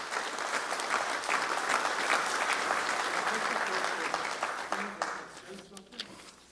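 Audience at the Battleship South Dakota Memorial applauding the Master Chief, a sustained burst of clapping that thins out and fades near the end, with talk rising underneath.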